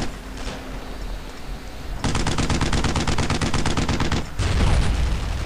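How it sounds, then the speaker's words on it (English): Bursts of heavy gunfire from a tank battle in the World War II shooter Brothers in Arms: Road to Hill 30, loud, rapid repeated volleys filling most of the stretch with a short gap before another burst. "I can hear another tank shooting"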